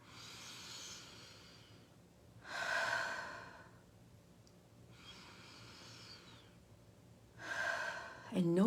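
Slow, deep breaths at close range, with long airy inhales and exhales alternating in an unhurried rhythm of about four full breaths against a quiet background.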